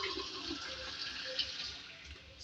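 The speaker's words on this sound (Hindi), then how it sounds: "पानी भी इसमें ऐड कर रही हूँ मैं इसको गलाने के लिए" Water pours steadily into a cooking pot of mutton with tomatoes, a continuous close splashing fill with a soft gurgle throughout.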